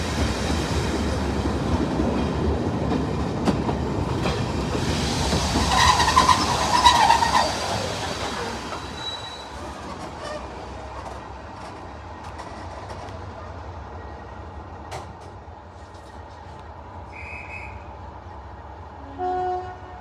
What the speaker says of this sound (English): Here is 37607 departing Corfe Castle on the slightly delayed 10:02 service towards Norden and the River Froome